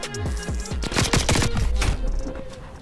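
Rapid bursts of automatic fire from an OTs 9 submachine gun in Call of Duty, loud and close, with short rattling volleys and echoing shots across a few seconds.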